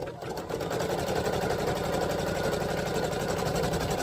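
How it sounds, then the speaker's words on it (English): An embroidery machine stitching a pocket placement line: a fast, steady mechanical needle chatter, close and continuous after a brief start-up, with no talk over it. "now it tells me to stitch the pocket placement line. So let's do that."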